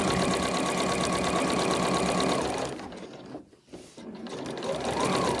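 A sewing machine runs steadily, stitching fabric at an increased stitch length of 3, loud and continuous before briefly slowing and pausing near the end, then starting up again.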